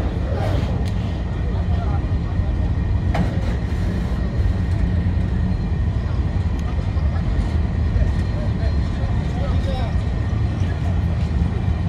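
A freight train rumbles past at Apapa Port, a continuous loud low roar and clatter of wagons rolling by, steady throughout with faint metallic squeals and background commotion.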